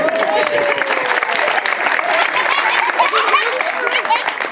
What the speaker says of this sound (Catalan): El mismíssim dimoni, un aplaudiment per al dimoni.